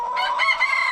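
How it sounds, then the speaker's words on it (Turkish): A rooster crows once, a short, loud, strained call close by with no other sounds around it. "Bu da horozumuz."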